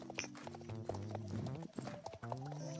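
Horse hooves clip-clop in the video game Star Stable, a steady, quiet rhythm of game sound effects layered with a melodic background tune.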